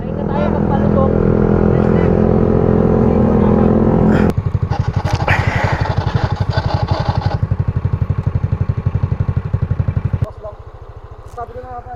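A Yamaha Aerox V2 215cc scooter engine runs nearby, first as a loud steady drone, then as a sharp rapid putter that settles into a quieter idle near the end, with a person talking over it at times.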